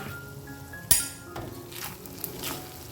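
A lid lifted off a pot of boiled Gobindobhog rice cooked with potol: one bright metallic clink near, followed by faint scraping and soft kitchen noises.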